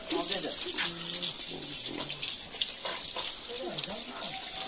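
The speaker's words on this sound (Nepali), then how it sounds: "कडा आउँदैछ पानी है।" A tap pours water in a strong, continuous hiss, close and fairly loud, while someone talks over it.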